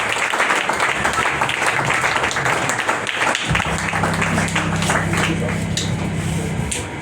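A church congregation claps and applauds during a worship service, a dense sustained wash of clapping throughout, with a low musical drone and voices joining partway through.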